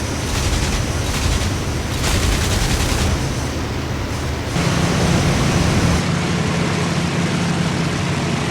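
Spitfire Mk. IXc guns firing in the IL-2 Sturmovik flight game, a loud, continuous rattling burst over the droning aircraft engine, with the tone shifting partway through and no talking.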